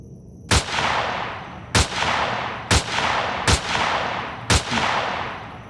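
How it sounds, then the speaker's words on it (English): Sniper rifle fire in the video game Empyrion Galactic Survival: five loud, sharp single shots at roughly one-second intervals, each followed by a booming echo that fades before the next. "We're going to need the sniper rifle for him"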